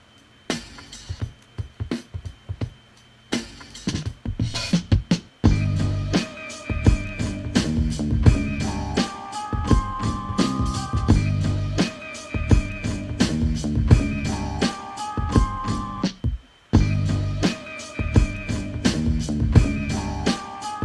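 A gritty, dirty hip-hop style beat plays back from music software, with heavy distorted drums and a looping melodic layer running steadily for about twenty seconds after a brief sparse intro, loud and unbroken by speech.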